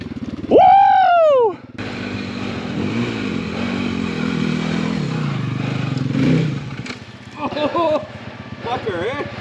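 Pit bike dirt bike engine revving while riding up a snowy hill, loud bursts and a sustained bogging drone, with whoops and shouting voices over it and between.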